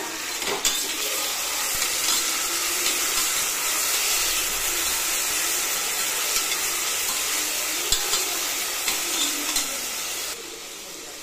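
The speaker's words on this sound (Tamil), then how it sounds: "இதை நல்லா வதக்கி விட்டுலாம்" Ginger-garlic paste sizzles as it is sautéed in a pan for tomato rice. The frying hiss is loud and continuous, with occasional stirring scrapes throughout.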